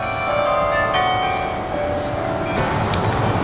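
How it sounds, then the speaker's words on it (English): Carillon bells ring faintly in the distance at a historical park in Dayton, Ohio, soft tolling tones drifting over a steady outdoor hum of wind and background noise. "but the bells are ringing."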